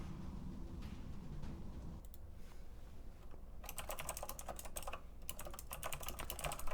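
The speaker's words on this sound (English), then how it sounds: "Sorry for the typing there. I realized the other day when we were doing our Essen live stream that my mechanical keyboard is really loud." A loud mechanical keyboard clatters with rapid keystrokes, sparse at first and then dense bursts of sharp clicks in the second half, close to the microphone with no talk.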